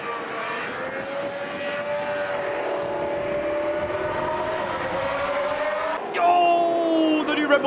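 A 2026 Formula 1 car, Mercedes or Alpine, runs on track with a high, steady engine tone that climbs gradually, then a second car passes closer and louder with a sharp rising whine near the end.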